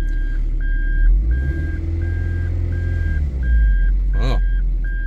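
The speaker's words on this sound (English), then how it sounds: "And you hear that horrible beeping like you're a blooming truck." A Toyota MR2 MK3 sounds its reverse warning beeper: a steady train of evenly spaced, loud electronic beeps over a low engine rumble, with a brief rising chirp near the end.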